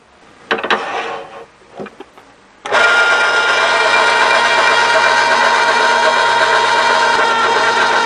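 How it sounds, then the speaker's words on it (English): Power drill with a centering bit boring a starter hole in a metal knockout bar, a few faint clicks and handling noises, then a loud, steady whining motor drone that runs continuously to the end. "First thing I'm going to do is use a centering bit to put a hole right in the center"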